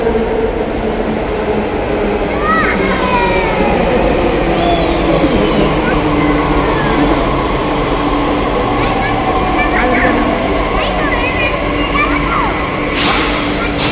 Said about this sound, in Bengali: তো এবার মেট্রো আসলেই চলে যাবো।